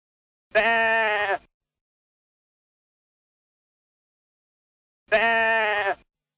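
Two separate sheep bleats from an educational farm video game, each loud, close and lasting about a second, with silence between them and no talk.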